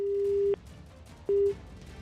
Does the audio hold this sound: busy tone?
yes